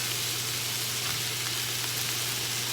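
Ground Italian sausage fries in a pan with a steady, even sizzle and crackle, close and continuous with no talking.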